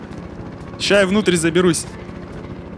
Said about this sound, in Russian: О, вертушка, видел?